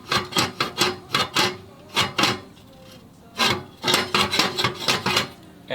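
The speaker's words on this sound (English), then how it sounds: "if you look at the underside of my muffler, you'll see that the baffle is loose" A loose baffle inside the muffler of a Harley-Davidson Iron 1200 is shifted back and forth, giving rhythmic metallic rasping scrapes. Two clusters of close, repeated strokes are split by a short quiet gap, and no one speaks.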